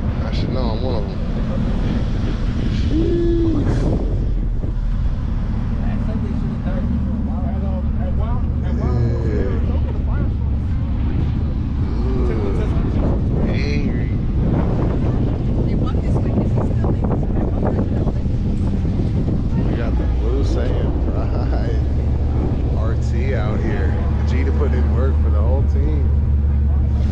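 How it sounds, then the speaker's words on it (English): Gusty wind buffets the microphone at Willow Springs Raceway in a steady, loud rumble lasting throughout, with people talking over it and vehicle noise mixed in. "Guys, it is pretty windy out here today."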